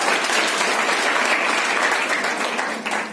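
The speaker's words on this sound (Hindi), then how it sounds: "माताओं के लिए तालियां होनी चाहिए।" An audience at a breast cancer awareness camp at Hume School claps for mothers, a steady, fairly loud burst of applause that lasts throughout and tapers slightly at the close.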